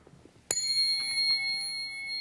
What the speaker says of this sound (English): When you hit the tuning fork against something, it vibrates